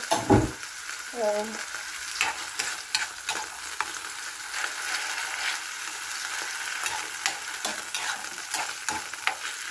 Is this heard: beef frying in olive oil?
yes